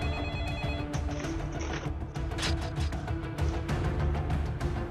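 A telephone bell rings loud and steady, a repeated electronic trill sounding over a dense, full musical backing for several seconds.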